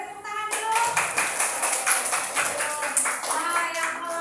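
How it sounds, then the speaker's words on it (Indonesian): Classroom audience of schoolchildren clapping hands together after a group presentation, a dense run of claps lasting several seconds, fairly close, with a brief voice at the start. "Oke, beri tepuk tangan dulu."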